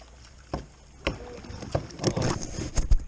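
A kayak paddles on the Brazos River. Paddle strokes splash and gurgle at the water close by, a few separate dips, then denser sloshing toward the end, over faint wind noise.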